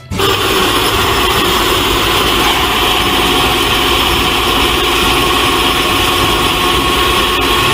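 A tow truck's engine idles steadily at close range, a loud, even rumble with a constant mechanical drone and no breaks or changes in pitch.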